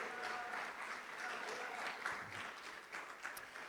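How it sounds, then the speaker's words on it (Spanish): A church congregation claps together in a dense, sustained round of applause at close range, with a voice calling out over it. "Sí, aplauda al Señor, aleluya, Él lo merece."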